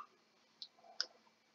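A computer mouse clicked on a house crest in a game program, two faint, quick, sharp clicks close together in a quiet room.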